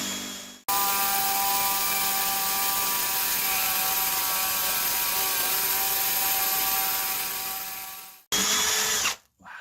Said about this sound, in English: I want to drill it all the way through.